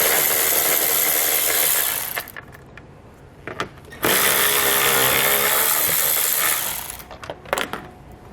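A power tool runs in two sustained bursts while 10mm head bolts are removed from a 2020 Subaru during hidden trailer hitch installation, each whir lasting about two seconds, loud and close, with brief clicks and handling noises between.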